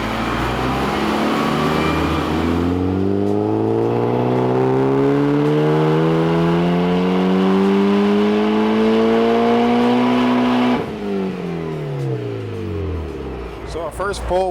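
A tuned Mitsubishi Evo engine revs steadily upward under heavy load on a dynamometer for about eight seconds, rising in pitch, then cuts off abruptly and settles into a lower rumble.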